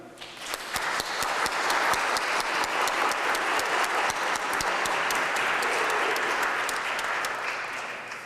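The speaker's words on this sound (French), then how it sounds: "J'invite toute l'Assemblée de les applaudir." A large church congregation claps steadily and warmly for several seconds at a Sunday service, the applause swelling and then slowly thinning out.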